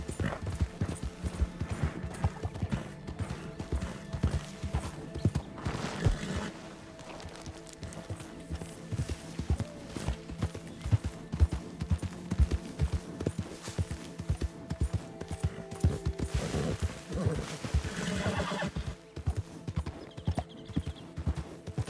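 Horse hooves clip-clopping in Red Dead Redemption 2, a steady rhythmic run of hoofbeats over ground that carries on for the whole stretch, with occasional louder bursts and game ambience beneath.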